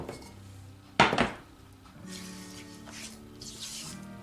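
Besan burfi mixture with sugar syrup is stirred in a cooking pan: one sharp metallic clank of the spoon against the pan, then softer scraping strokes, close and alone without speech.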